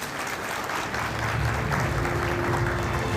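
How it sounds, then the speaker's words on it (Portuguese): An audience applauds guests at the close of a panel talk on smart cities and security, producing a dense, loud, continuous wash of clapping that swells slightly midway and holds steady to the end, with no voices. "Uma salva de palmas aos nossos convidados."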